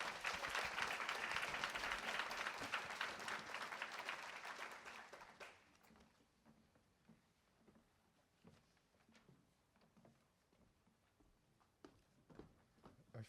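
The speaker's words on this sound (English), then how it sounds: "let's give a round of applause to welcome Engvo and Jessica Pavone." An audience claps to welcome speakers at a psychoanalysis and poetry event, dense applause for about five seconds that quickly thins to a few scattered, quieter claps and room noise.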